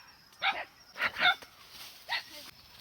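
A dog barks several times outdoors at a forest overnight camp near a Katu tribal hut, sharp yelps spaced in three or four separate bursts over quiet background.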